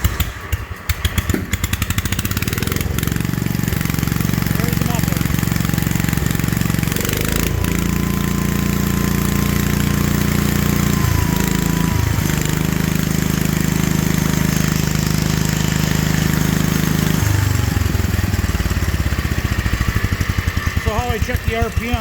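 A patio tractor engine with a Chinese carburetor idles steadily and loudly throughout, its low throbbing rumble holding an even pace with slight shifts in speed, while someone talks over it.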